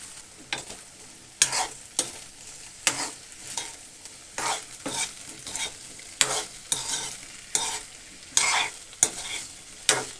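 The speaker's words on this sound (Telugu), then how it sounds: "ఆ విధంగా వేగుతున్నప్పుడు బెండకాయ, జీలకర్ర ఈ రెండు కలిపి వేసేస్తున్నా" Chopped okra and cumin seeds frying and sizzling in hot oil, with a steady close hiss broken by repeated scraping stirs of a spoon in the pan at a loose, uneven rhythm.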